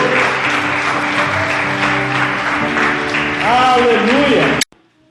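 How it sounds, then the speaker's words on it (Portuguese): Congregation applause in a church, steady clapping from many people over sustained organ-like tones and a voice, swelling briefly before cutting off abruptly. "Você pode aplaudir o Senhor, querido, porque só Ele é digno"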